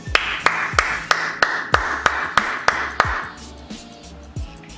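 Nine sharp hand claps in an even, steady rhythm, close and loud, followed by quieter rustling and one softer knock.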